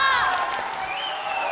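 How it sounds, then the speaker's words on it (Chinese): Studio audience at a Chinese televised dating show breaks into steady, full applause and cheering that fills the space for the short stretch, with some tonal sound at the very start. "朋友不在来多少，得有你们的掌声鼓励才行啊"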